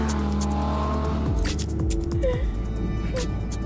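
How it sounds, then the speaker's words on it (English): A combustion car engine roars close by, revving and accelerating with a deep growling rumble, rising and shifting pitch, with brief crackles and afterburn pops, while a voice speaks over it. "Roaring down the road like this, it's hard to imagine an e-car or hybrid ever producing that kind of thrill."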